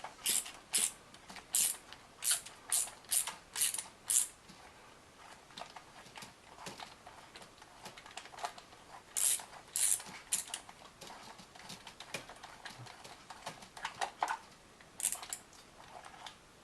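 Quiet rapid ratcheting clicks from a hand wrench loosening valve cover bolts on a Mazda B4000 engine, coming in bursts of short regular ticks with pauses and light metallic handling between them.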